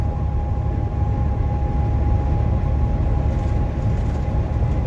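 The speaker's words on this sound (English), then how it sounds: "There's some train cars, some bathtubs, gondolas, or hoppers." Freight train cars such as gondolas, hoppers and bathtub cars rolling past near Commerce City, a steady loud rumble with a constant tone, continuous throughout without talk.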